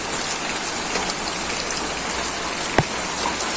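Rain falls steadily on dry garden ground, a dense even patter close by with one brief sharper knock near the end and no talking.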